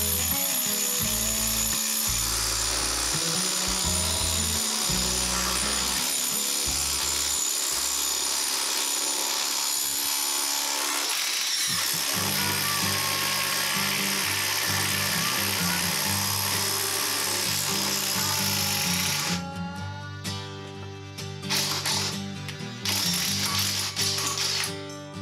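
An impact driver fitted with a chuck adaptor hammers away in loud, rapid ratcheting bursts that stop and restart, then shifts to a harsher, uneven grinding rattle near the end as the adaptor's pins shear.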